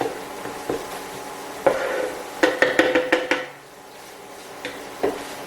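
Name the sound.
chopping cheesesteak meat on a cooking surface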